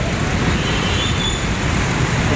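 Dense road traffic near the Pasay Rotonda intersection in Manila, a steady close wash of engines and tyre roar from many vehicles with no pauses throughout.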